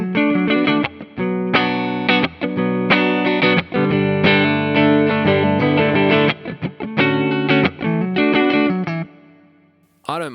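Electric guitar played through a Marshall JCM800 2210 amp with reverb, loud distorted chords and riffs in choppy bursts, ringing out with a reverb tail at the end.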